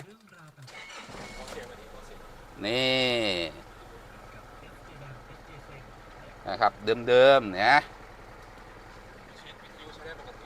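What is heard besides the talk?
Isuzu D-Max pickup truck engine starting and idling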